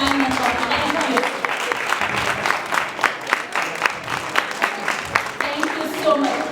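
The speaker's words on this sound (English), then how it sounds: "let's give a big applause to all of them" An audience at a school performance event applauds dance and music teachers with steady, fairly close clapping that swells and fades, with crowd chatter and voices beneath it.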